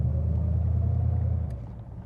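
Low, steady engine and road rumble from a 1932 Ford sedan under way, loud and continuous before easing slightly toward the end.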